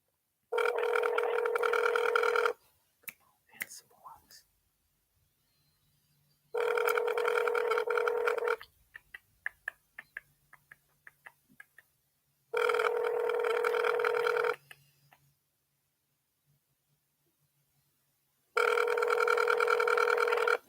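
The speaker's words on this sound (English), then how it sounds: "Oh, y'all don't want to answer the phone?" Phone line ringing on a call placed to a Walmart store: four long, loud ring bursts repeat at regular intervals with silent gaps and faint clicks between them, and no one answers.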